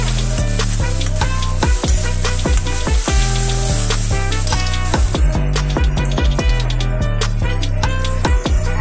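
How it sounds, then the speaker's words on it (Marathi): Steady sizzling of a green spice paste frying in a pan for green poha, with repeated scraping and stirring knocks throughout; loud and close, with no talking. "हे वाटण चांगलं परतून घे"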